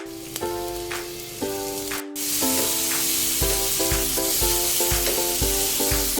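Tomato paste with turmeric and chili spices fries in a pan, giving a steady sizzle under a bright melodic music track that plays throughout.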